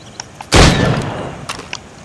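One loud gunshot from Assassin's Creed Rogue, a sharp close blast with a ringing decay, framed by a few faint clicks before and after.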